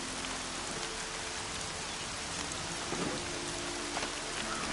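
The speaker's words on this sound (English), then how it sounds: "Rain's not so bad." Steady rain falls in the Horizon Zero Dawn video game, a dense continuous hiss of drops on surfaces with faint low rumbles beneath, no voices present.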